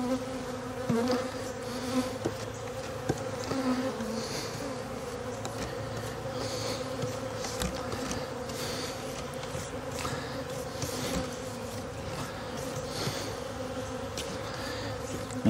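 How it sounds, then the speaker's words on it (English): Dense, steady buzzing of many honeybees close by at a horizontal hive during package installation, a continuous droning hum with no talking. "let's try to get rid of some of these bees."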